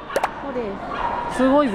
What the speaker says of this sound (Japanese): 今日犬の鳴き声すごいな。